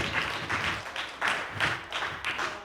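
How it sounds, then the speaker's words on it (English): A poetry slam audience bursts into applause, the clapping swelling in several loud waves over a few seconds. "So please give yourselves a round of applause"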